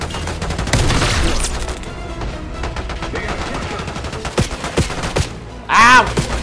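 Rapid machine-gun fire and scattered single shots from the Call of Duty Black Ops 6 campaign on PC, loud and close, ending with a short shout over the shooting.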